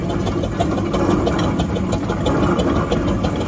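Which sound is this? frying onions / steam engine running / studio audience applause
steam engine running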